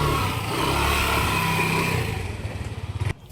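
A Yamaha Aerox 155 V1 scooter, running after a stator assembly replacement, hums steadily at close range. Its engine note then breaks into slowing pulses and cuts off just before the end.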